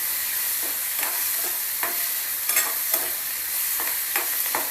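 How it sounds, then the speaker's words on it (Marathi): Onion and tomato sauté in oil for a spicy sev bhaji, a constant close sizzle broken by repeated spatula stirs and scrapes every second or so, with no one talking. "एक 2-3 मिनटं चांगलं परतून घेऊया तेलावरती."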